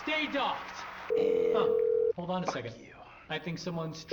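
A steady electronic phone tone in GTA V holds for about a second, set between bursts of talk, with beeping dialing tones near the end.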